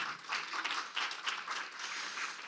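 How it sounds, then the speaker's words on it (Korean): An audience claps at a startup seminar reviewing CES 2023, a short burst of scattered, uneven clapping from a modest crowd lasting a couple of seconds with no voices over it. "그럼 박수 한번 주십시오"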